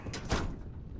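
A maintenance door beside a security gate slides open in the video game Starfield, a brief whooshing mechanical slide with a soft thud, heard alone at moderate volume.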